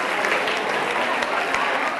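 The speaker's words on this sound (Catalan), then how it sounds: "Un aplaudiment també per elles i per la Cora" Studio audience at a televised word-spelling game show applauding eliminated contestants, a steady, dense wash of clapping at an even level from start to finish.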